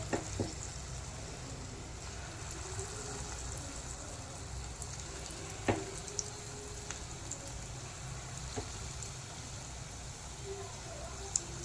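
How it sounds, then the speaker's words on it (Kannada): Goli baji batter dropped into hot oil on medium flame fries with a soft, steady hiss and an occasional faint tap of utensils, quiet throughout and without talking. "ಈಗ ಇದು ಎಣ್ಣೆ ಕಾದಿದೆ ನೋಡಿ ಬಿಟ್ಟಿದ ತಕ್ಷಣ ಹಾಗೆ ಮೇಲ್ ಬರುತ್ತೆ"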